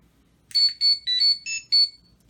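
A Power Rangers Legacy Communicator toy, Tommy Oliver edition, rings out a series of five quick electronic chirping tones, loud and close against a quiet background, with no talk.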